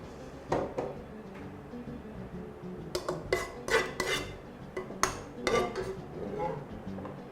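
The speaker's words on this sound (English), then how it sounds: "I'm just going to use my spoon to spread that around" A spoon spreads sauce around in a cooking pot for garlic lamb ribs in red wine, making a cluster of metallic scrapes and clinks, close and clear, with no talk over it.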